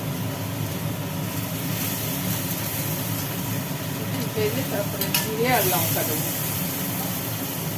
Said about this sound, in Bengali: এদিকে তো কষানো হচ্ছে